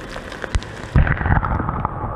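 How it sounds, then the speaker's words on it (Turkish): Heavy downpour on the Marmaris seafront in Turkey during a December storm: a steady, dense hiss of rain that thickens after a brief sharp knock, continuing loud and close without speech. "İri iri yağmaya başladı."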